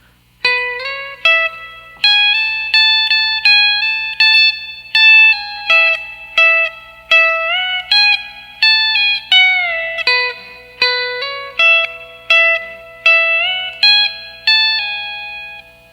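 Electric guitar lick with a B-bender, country phrase: clean, bright picked notes with pitch bends, about two per second in steady rhythm, played alone and upfront for sixteen seconds.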